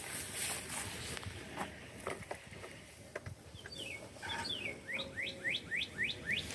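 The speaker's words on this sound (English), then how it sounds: "Nice pretty birds." Birds chirp outdoors on a farm where loose pigs roam, starting as scattered calls and building into a quick run of bright, rising tweets near the end, set against low background rumble and no talk.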